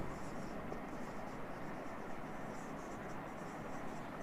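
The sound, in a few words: writing out a math solution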